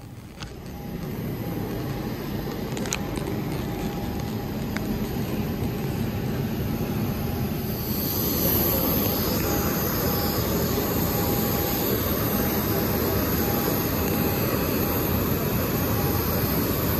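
Jet airliner engines hum and roar steadily on the airport apron before a flight from Hamburg, a continuous broadband drone that swells slightly louder partway through, heard from nearby with no talking.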